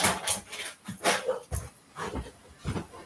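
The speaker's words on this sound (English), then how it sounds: "he was barking in the living room for a few minutes there." A dog indoors pants and whimpers softly in short, uneven bursts, close by and quiet, with no talking.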